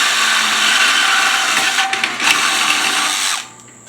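Power grinder cutting through a stock exhaust pipe, a loud, close, continuous high-pitched whine with a rough edge that holds steady for over three seconds, then cuts off and winds down.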